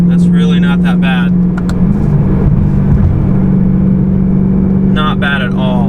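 BMW M3 exhaust fitted with cheap mufflers, cruising at a steady 3,000 RPM around 55 mph, giving a constant low drone heard from inside the car, with a voice speaking briefly over it at the start and end.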